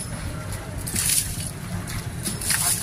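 Drainage water pours out of the ground and floods a house during heavy city rain, a steady broadband rush and slosh that continues without pause, with brighter splashing surges near the middle and end.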